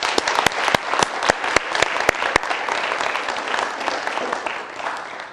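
An audience claps for a speaker, starting with sharp, distinct claps that blend into a dense, sustained round of applause. The clapping thins out slightly toward the end.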